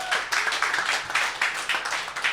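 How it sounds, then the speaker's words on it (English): A live concert audience claps steadily and densely for a couple of seconds, sustained applause filling the room without any voices standing out. "So give yourself a round of applause."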